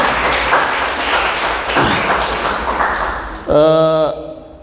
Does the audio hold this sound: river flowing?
no